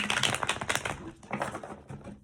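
Quick, crisp riffling and flicking of tarot cards in irregular bursts, close to the mic, with short pauses between shuffles.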